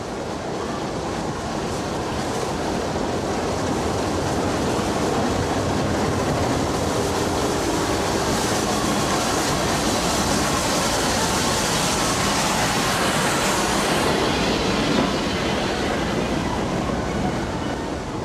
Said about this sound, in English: crowds line the platforms as the first steam-hauled passenger train since 1967 terminates